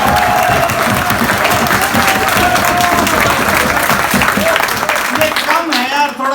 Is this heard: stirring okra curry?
no